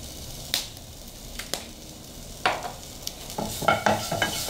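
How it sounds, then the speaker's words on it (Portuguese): Onion soup sautéing in a pot with garlic, salt, pepper, turmeric and paprika, a steady soft sizzle broken by several sharp scrapes and clinks of a spoon stirring against the pan. "Ó, vou deixar refogar."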